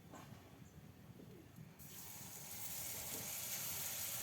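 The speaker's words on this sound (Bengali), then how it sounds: "আবার দিয়ে দেবে গরম তেলের মধ্যে আটাগুলো।" Palm fritter batter frying in hot oil, a soft background crackle that swells into a steady, loud, broadband sizzle halfway through and holds there to the end.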